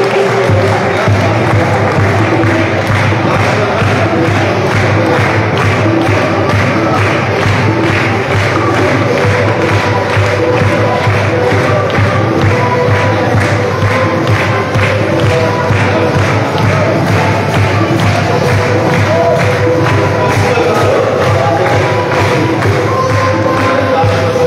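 An audience claps steadily through a college Christmas celebration in a Hyderabad hall, a dense, loud wash of applause with a faint crowd murmur mixed in.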